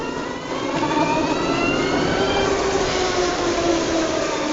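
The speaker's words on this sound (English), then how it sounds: "I'm pulling away in it now, and you've got a slight bit of engine noise." A Harley-Davidson electric motorcycle pulling away, its motor giving a steady rising whine over broad wind and road rush, loud and continuous.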